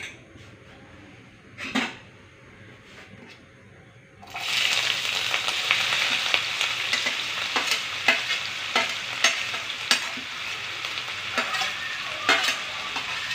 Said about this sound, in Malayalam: ഇനി ഒന്ന് വറുത്ത് വറുത്തെടുക്കണം